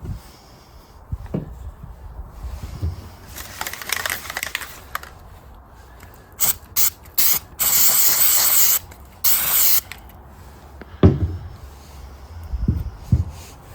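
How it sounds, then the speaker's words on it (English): Several bursts of aerosol spray hiss, some long and some short, cleaning the media controller console of a Mini Cooper SE, mixed with clicking and rustling handling noises close by. "So I'm going to have to spray some down there as well."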